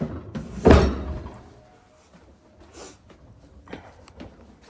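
A chest of drawers is pushed shut with one loud, close wooden thump. A few quieter knocks and rustles follow as handling continues, and no one speaks.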